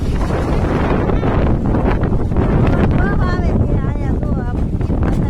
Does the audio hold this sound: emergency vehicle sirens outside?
no